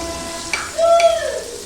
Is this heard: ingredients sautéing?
yes